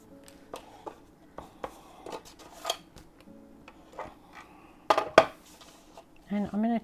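Sharp paper snips and crisp chops from cutting scrapbook paper for a handmade junk journal tag, scattered and close, with light tapping and handling noises between cuts and a brief rustle near the end.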